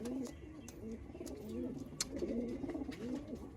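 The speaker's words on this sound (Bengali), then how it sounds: "কত পায়রা দেখুন বন্ধুরা, এক গাদা পায়রা নিয়ে ঘরে রেখে দিয়েছে।" A room full of Malwai pigeons kept indoors coo in soft, repeated throaty rolls that overlap, fairly quiet and close, with faint clicks and rustles around them.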